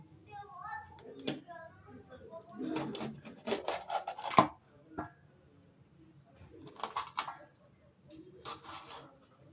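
Knife slicing capsicum on a board at home, with scattered rasping cuts and one sharp chop, close and quiet, coming in irregular clusters with pauses between them.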